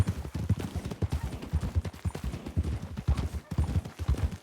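Hooves of a horse in a video game clip-clop in a quick, steady rhythm, moderately loud and close, continuing throughout without other sounds standing out.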